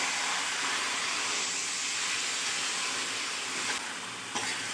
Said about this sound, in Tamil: இப்போ அதில் நாம் கழுவி வச்சுருக்கிற கறி துண்டை போட்டுக்கலாம். போட்டுட்டு இப்போ நல்லா வதக்கி விட்டுக்கணும்.